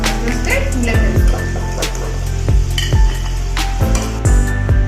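Chicken pieces frying in oil, giving a steady sizzle with occasional clinks of utensils and low background tones throughout.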